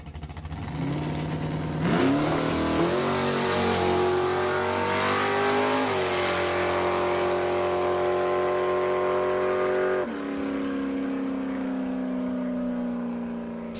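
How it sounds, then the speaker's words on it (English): A 1967 Camaro drag car with a big-block engine launches hard down the strip, loud and close, its revs climbing through several rising sweeps broken by gear changes before easing into a fading roar. "1967 Camaro. Big block under the hood."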